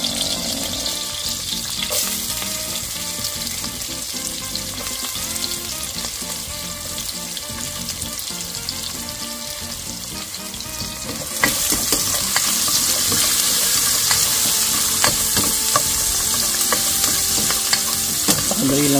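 Garlic and onion sauté together in a pan as the base for a mung bean stew. A continuous sizzle is accompanied by frequent stirring scrapes, and it swells louder and brighter partway through. No speech is heard.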